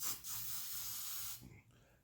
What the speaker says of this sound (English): So what I use is just a spray adhesive.